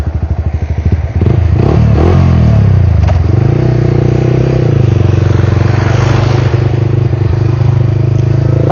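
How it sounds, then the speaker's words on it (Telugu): A Yamaha R15 V3 motorcycle engine thrums loudly while riding, starting with a pulsing low beat that rises into a steady revving drone, with wind buffeting and some clatter close to the rider. "ఇది బైక్ బీట్."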